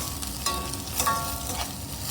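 Thin-sliced onions sautéing in a hot pan for a Kerala potato and carrot stir-fry, a soft continuous sizzle with occasional scrapes and clinks of a spoon stirring, close and without talk.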